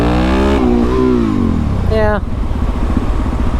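Suzuki DRZ motorcycle engine revving hard in second gear on a wet road, a loud close rising then falling rev lasting about two seconds before settling into a rough idle-like rumble, with a brief spoken word.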